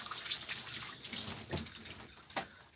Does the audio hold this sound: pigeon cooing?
no